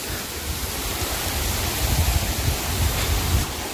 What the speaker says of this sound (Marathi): मित्रांनो, हा इथे एक वॉटरफॉल आहे.